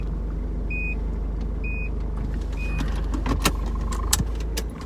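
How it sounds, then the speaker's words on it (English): A car reversing while parking sounds a reverse warning, three evenly spaced high beeps over a low engine idle, followed by a few clicks and knocks near the end. "Sounds like I'm reversing a truck."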